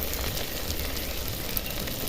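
Steady, even sizzle of dried anchovy thokku with tomato and masala sautéing in a pan, a continuous frying hiss without breaks.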